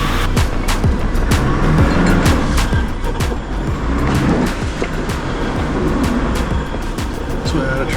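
A Toyota Landcruiser 76 4x4 with a 2.8 litre automatic drives off-road, its engine droning loud and close under a steady rumble, with sharp clicks and knocks from the vehicle over the terrain throughout.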